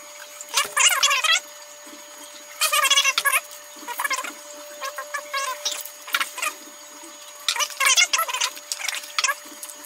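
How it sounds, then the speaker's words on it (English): A small test vial is rinsed with reef aquarium water, giving several short bursts of splashing and sloshing liquid close by, separated by brief quiet gaps. "I'm gonna go ahead and rinse the vial with the tank water real quick."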